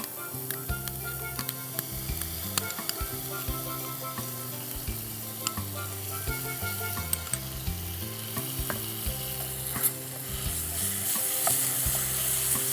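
Lightly fried coriander leaves and sour yogurt, a filling for potato chops, sizzle in a pan with a steady low hiss and occasional stirring under continuous background music.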